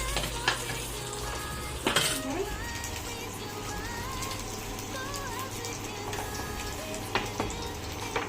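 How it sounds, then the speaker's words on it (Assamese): Cucumber vegetable curry cooks in a pan in a hostel kitchen, with a steady sizzle and stirring plus occasional clinks of a utensil against the pot. "আমাৰ চুমি বাইদেৱে চব্জি ৰান্ধিছে"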